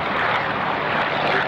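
A B-25 bomber flying at a WWII bomber air display, its piston engines giving a steady, loud broadband drone with no break.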